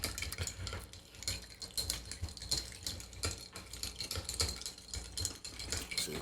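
A spoon clinks and rattles rapidly against the inside of a cup, a quick continuous stirring close by.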